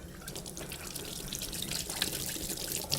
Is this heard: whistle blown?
no